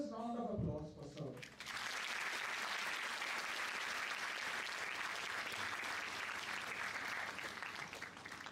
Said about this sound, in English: Please join me in giving a thunderous round of applause for sir.